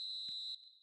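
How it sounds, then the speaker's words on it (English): The referee's whistle sounds for half-time in a football video game as a single steady high tone, fairly faint, with a brief low thump partway through. "And the whistle goes for half-time."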